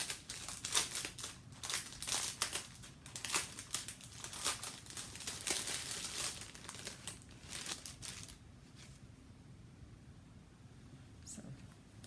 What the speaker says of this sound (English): sorry for the crinkles